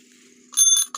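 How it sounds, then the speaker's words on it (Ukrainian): An old Soviet-made bicycle bell with a factory inspection stamp rings twice, close and loud, on a bicycle after a quiet moment, each ring a bright metallic trill that ends abruptly. "Дзвоник робить."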